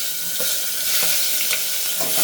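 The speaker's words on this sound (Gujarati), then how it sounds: "પછી નાખી દઈશું આપણે ડુંગળી" Chopped onions fry in hot oil with cumin and turmeric, a dense continuous sizzle with a few soft stirring knocks, close and loud with no talking.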